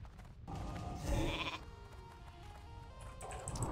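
Sheep bleating from the Polymorph spell in WoW Classic priest PvP, a short game-audio bleat repeating over a busy battle mix of spell effects, steady and fairly loud across the few seconds.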